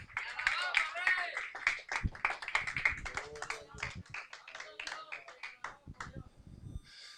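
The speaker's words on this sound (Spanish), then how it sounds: "Es más, dale un aplauso a Cristo." Church congregation clapping for Christ during a sermon, a close, uneven burst of hand claps with tapping rhythms and voices mixed in, softening toward the end.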